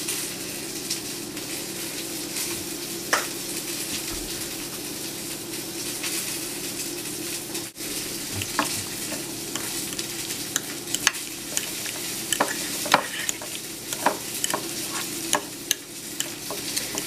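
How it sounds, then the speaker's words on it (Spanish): Guacamole being stirred with lime juice and garlic salt: a steady wet, squelching stir runs throughout, close and continuous, with scattered soft clicks of the utensil against the bowl. "Y ahora sí voy a revolver todo lo que le jugo de limón con la sal de ajo"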